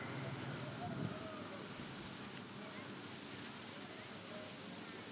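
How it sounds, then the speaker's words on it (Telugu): Constant, even rush of falling water at Kailasakona waterfall in Andhra Pradesh, a soft broadband hiss that fills the whole stretch without pause, with faint background sounds over it. "ఇది మన మిస్ అవ్వలేని స్పాట్, జలపాతం"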